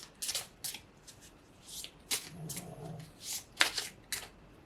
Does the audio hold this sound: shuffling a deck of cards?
yes